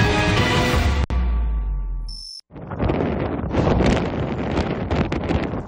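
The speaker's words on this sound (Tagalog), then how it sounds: "dinig na dinig ang tila dagundong ng malakas sa hangin" Strong typhoon winds roar across Daet, Camarines Norte, a dense, loud rush buffeting the microphone, broken by a brief cut before gusting back in full force.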